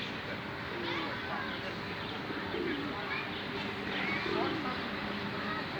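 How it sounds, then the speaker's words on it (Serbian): Pigeons coo in a city park at Kalemegdan in Belgrade, a few low throaty coos rising above a steady outdoor murmur of children playing and distant voices. "ovde su uglavnom deca sa roditeljima i golubovi."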